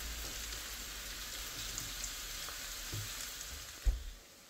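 Tomatoes sauté in a pan with a steady, even sizzle up close, broken only by a couple of soft knocks near the end; no one speaks.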